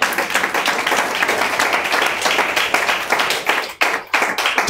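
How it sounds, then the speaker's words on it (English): A church congregation clapping after a sermon on the Second Coming, with loud, rhythmic, fairly close hand claps that briefly break off near the end and then resume. "Give him a hand clap"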